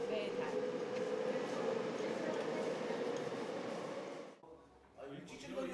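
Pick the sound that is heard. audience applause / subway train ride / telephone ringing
subway train ride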